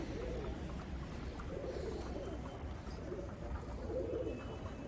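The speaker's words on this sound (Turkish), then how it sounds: "Kuşlarım nasıl kızmış." Pigeons coo in a steady, agitated chorus from a rooftop loft, the low throaty calls swelling in repeated pulses over constant background noise with no talking.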